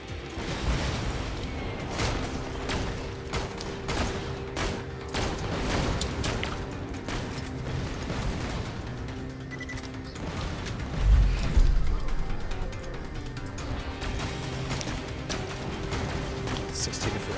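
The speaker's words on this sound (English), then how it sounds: "Rocket launcher." Rocket launcher fire and explosions in Borderlands 2 combat: a continuous, busy wash of blasts, booms and mechanical clatter throughout, with a heavier low rumble partway through and no clear speech over it.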